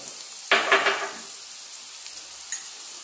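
Cumin, urad dal, green chilies and chana dal hit hot oil with a sudden loud sizzle that burst twice and then fades to a gentle crackle, followed by a small clink.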